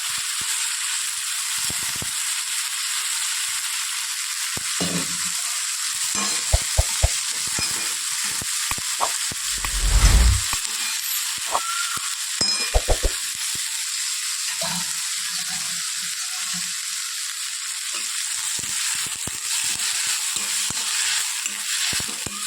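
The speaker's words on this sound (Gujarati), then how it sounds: "ભાજીને થોડી સોતે કરીએ." Greens sautéed in a pan with asafoetida, garlic and green chillies give a continuous close hiss and sizzle, broken by scattered scraping stir strokes and one heavier thump midway, with no talking.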